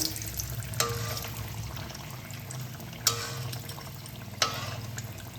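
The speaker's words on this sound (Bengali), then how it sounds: "মিডিয়াম আঁচে ভাজছি যাতে এই পিঠাটা উপরে বেশিরভাগটা পুড়ে না যায়" Malpua batter frying in oil over medium heat, a steady soft bubbling hiss with a few sharp crackles or clinks spaced a second or two apart.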